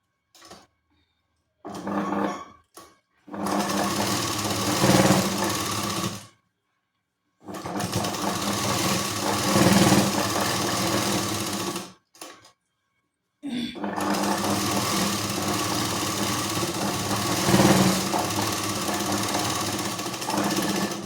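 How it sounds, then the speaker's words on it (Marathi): A sewing machine topstitches along the folded edge of a blouse in three long, loud runs of rapid, even needle clatter, separated by short silences and a few brief bursts. "ही अशी फोल्ड करून घेऊन इथे अगदी कडेला दाब टीप द्यायची"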